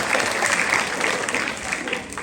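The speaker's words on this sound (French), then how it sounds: "Des applaudissements, s'il vous plaît!" Steady applause from a group, dense clapping that holds at an even level throughout, with a few voices faintly mixed in.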